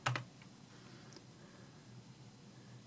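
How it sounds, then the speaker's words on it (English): A web address is typed on a computer keyboard in a short burst of close, quiet key clicks at the start, followed by a few faint taps over low room hiss. "And I'll just type in virtualbox.org."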